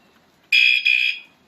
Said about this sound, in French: Et voilà, l'alarme est en service.